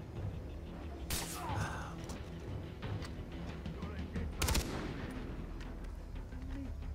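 Gunfire in the shooter game Far Cry 3, with a couple of sharp bursts standing out over a busy combat background.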